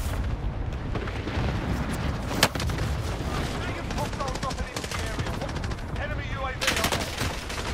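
Cluster strike explosions in Call of Duty Warzone, a barrage of booming blasts and rattling gunfire, loud and dense, with one sharp crack standing out, under voices talking.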